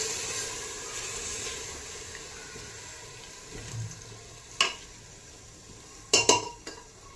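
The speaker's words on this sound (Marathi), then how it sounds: "सर्व व्यवस्थित मिक्स करून घ्यायचं आहे" A spoon stirring vegetable biryani in a pot, soft scraping and shuffling of rice followed by a few sharp metallic clinks of the utensil against the pot's rim near the end, close and alone.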